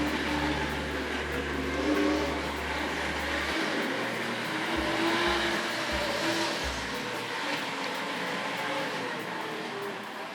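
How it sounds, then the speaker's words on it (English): Tri-ang Hornby model train running on a layout, a steady whirring whine from the wheels and motor continuing throughout with a low hum at the start, fairly close and without speech. "Lovely whine from those wheels."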